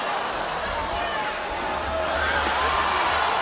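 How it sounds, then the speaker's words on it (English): A boxing crowd at the Pacquiao versus Algieri fight keeps up a dense, continuous roar of murmurs and swelling voices, with no quiet gaps. "And the crowd's oohing and ahhing"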